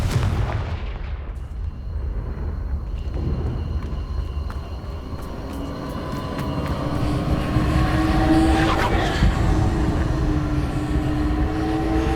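Repeated Confringo and Incendio fire spells blast in Hogwarts Legacy, a dense rolling barrage of booming impacts and crackling bursts that builds steadily louder over a low rumbling battle din, with no one talking.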